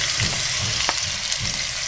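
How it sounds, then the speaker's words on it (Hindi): Marinated chicken frying in hot oil gives a loud, close, continuous sizzle with soft crackles and a brief stirring scrape, no voices. "ऑयल को हल्का सा गर्म होने दें और आप इसमें आप चिकन डाल दें। मैरिनेट किया हुआ चिकन डाल दें।"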